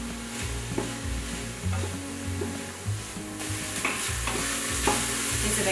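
Garlic and onion fry in an Instant Pot, giving a steady close sizzle that grows louder halfway through, with stirring scrapes and a low background hum but no speech.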